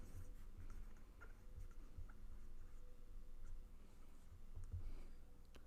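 Pen or pencil writing a factored algebra expression by hand, steady soft scratching strokes with small taps and pauses, close and quiet, no talking.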